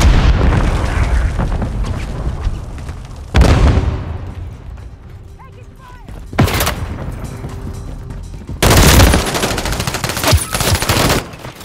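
Call of Duty combat in which several loud explosive blasts and bursts of gunfire break through rumbling battle noise at intervals, each blast sudden and broadband before settling back into the din.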